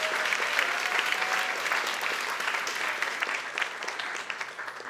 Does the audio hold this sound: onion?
no